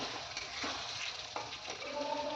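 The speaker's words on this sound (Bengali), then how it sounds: "দেখতেই পেলে ডিমের ঝোল করছি আলু দিয়ে" Egg curry with potatoes cooking in a pan, a steady sizzle and bubbling with faint stirring scrapes, fairly close and continuous.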